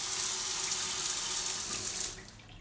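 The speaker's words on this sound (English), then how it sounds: "So let's press the button and see how much water comes out." Push-button shower at a campsite gushing water in a steady loud hiss that cuts off sharply near the end, leaving faint room tone.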